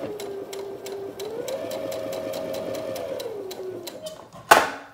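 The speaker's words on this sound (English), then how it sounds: "my machine will backstitch in the beginning" A sewing machine backstitches at the start of a seam on a tie top, its motor humming steadily with rhythmic needle ticks, speed rising and easing before a sharp click at the end.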